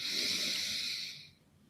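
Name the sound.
deep breathing, inhaling and exhaling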